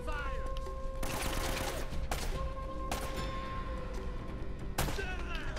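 Bursts of gunfire ring out in the Uncharted action game, with several sharp shots and short volleys spread across the stretch over a steady background of game ambience and music.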